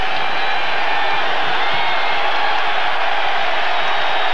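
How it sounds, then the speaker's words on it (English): A sellout basketball crowd stands and cheers at a close game, a dense, steady roar of voices filling the arena throughout without clear breaks. "The crowd, the sellout, on its feet."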